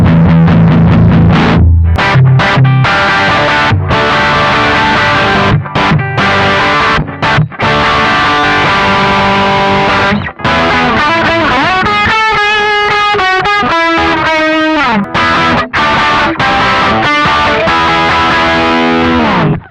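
An electric guitar, played hard through a VOX Valvenergy Silk Drive overdrive pedal, rings out loud and heavily distorted with chords and sustained notes, including a bent lead phrase, all without any voices.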